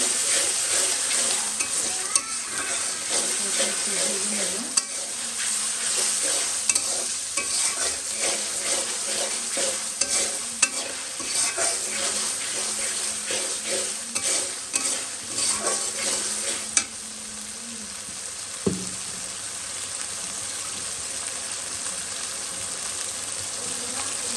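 Ginger and garlic sizzle in a pan while a spoon stirs and scrapes them, with occasional sharp clinks of utensil against metal, close and steady throughout.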